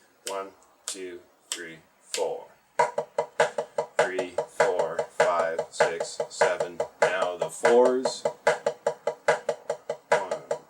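Single-hand drumstick tap-off exercise in Moeller technique, a steady run of crisp stick taps falling into repeating groups, with a voice counting numbers aloud over the strokes.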